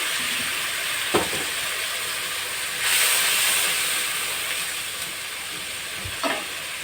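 Curry pan on the stove hissing and sizzling steadily after a little water is poured over ginger-garlic paste, with a brief louder surge of steam midway and a few soft stirring knocks.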